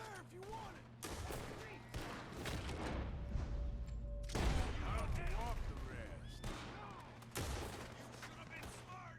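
Rapid bursts of gunfire from a Windows shooter game come in several volleys with short gaps between them, mixed with game effects and a faint voice underneath.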